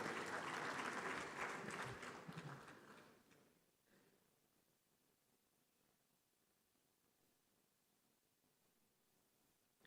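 Ceremony audience at the Afreximbank annual meetings breaks into applause, loud for about three seconds and then fading away, leaving quiet room tone.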